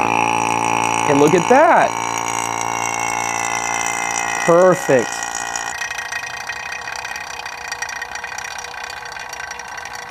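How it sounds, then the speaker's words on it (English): A vacuum pump runs steadily on an HVAC line set, drawing out moisture and gas with a constant loud drone and whine; a voice speaks briefly over it and squeaky mechanical chirps come early on. "when I turn this vacuum pump on, it will evacuate the moisture and the gases in this line"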